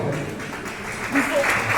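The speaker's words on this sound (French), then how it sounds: "On peut applaudir" Brief applause from the audience at the 2023 Arts and Culture Gala in Marrakech, a short steady patter of clapping with a voice faintly mixed in.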